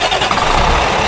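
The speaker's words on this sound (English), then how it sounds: "Just by this button, we can start the engine or we can stop the engine." A school bus engine starting up at the push of a button, a loud close churning roar that catches and settles into a steady running rumble, with no voices.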